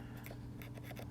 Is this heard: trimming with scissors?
yes